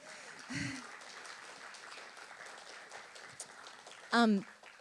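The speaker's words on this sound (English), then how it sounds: "Could we give him a round of applause?" A school audience at a home-school co-op performance of Shakespeare's Twelfth Night gives a light, steady round of applause, fairly faint and diffuse, with brief voices breaking through at the start and near the end.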